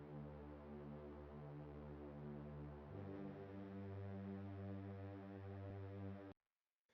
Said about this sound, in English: grabbed this pad ambient choirs, and just went ahead and laid a really basic 1/4 progression here